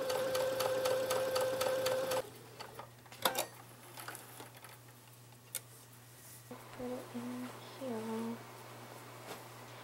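A sewing machine stitches a crochet strawberry tote bag, whirring in a steady close run for about two seconds before stopping, then quieter handling clicks and bumps, with a voice talking toward the end.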